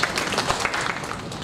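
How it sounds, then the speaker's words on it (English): An audience at a formal address applauds, a brief, moderately loud patter of many hands clapping at once. "Can you please have a round of applause?"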